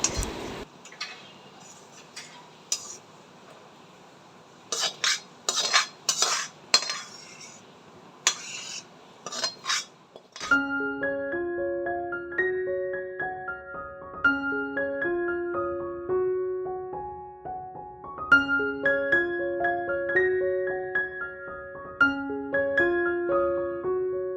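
Metal utensils clink and scrape as rice is served and a tiffin box is packed, sharp irregular clatter for several seconds, then gentle background music plays with no talking.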